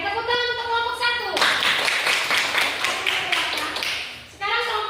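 Classroom applause for a student group: a burst of many hands clapping, close and lively, for about three seconds, with a teacher's voice speaking before and after it.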